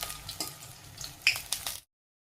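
Bora fritters frying slowly in a pan, a soft steady sizzle with a few brief louder spatters near the end before it cuts to silence.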